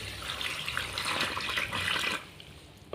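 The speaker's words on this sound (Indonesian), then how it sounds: "jadi air kita masukkan" Water poured steadily into a flour mixture for odading dough, a continuous close splashing gush for about two seconds that then stops, leaving quiet, with no talk.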